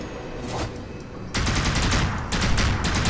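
Gunfire in the first-person shooter game NecroVisioN: a steady loud burst of rapid repeated shots, louder and denser in the second half, with no talking.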